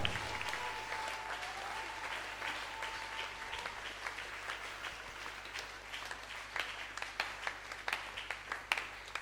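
A church congregation bursts into sustained applause at an Easter service, a dense, even patter of many hands with a few sharper claps, fairly distant and soft, with no talk over it.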